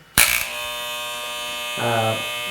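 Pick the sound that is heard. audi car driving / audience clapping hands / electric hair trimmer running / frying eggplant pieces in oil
electric hair trimmer running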